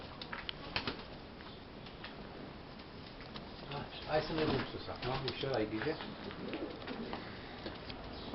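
Standard racing homing pigeons in a loft coo softly in the background while someone speaks nearby.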